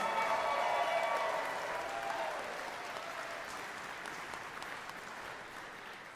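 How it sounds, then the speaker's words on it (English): Guests at the hybrid 2022 NLC gala give a warm round of applause, a full wash of many hands that starts strong and slowly thins and fades over a few seconds, with no voices over it. "Let's give all 7 people a huge round of applause."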